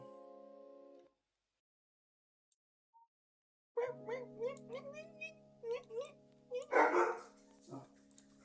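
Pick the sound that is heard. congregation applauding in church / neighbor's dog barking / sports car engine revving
neighbor's dog barking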